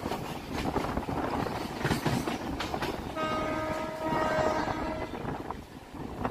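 A suburban train rumbles along the Sealdah to Budge Budge line with steady rattling wheels and clattering carriages, and a long horn sounds for about two seconds partway through.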